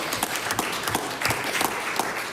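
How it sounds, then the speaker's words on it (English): Members clapping during a legislative debate on housing, scattered sharp hand claps from a handful of people in a chamber, uneven and sparse rather than a full round of applause. "I am extremely happy to see hands clapping"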